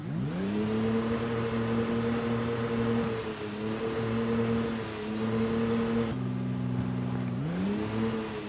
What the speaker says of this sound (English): it's crazy how loud the car is when you reverse